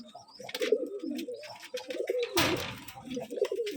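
Pigeons on a pigeon farm keeping high-quality birds coo repeatedly in soft, overlapping calls close by, with one brief burst of flapping or rustling partway through.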